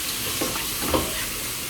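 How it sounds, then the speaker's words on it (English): Chopped tomatoes fry in a pan with a smashed Maggi stock cube for prawn pulao, giving a steady, close, loud sizzle with faint stirring scrapes and no talking. "And you fry it well."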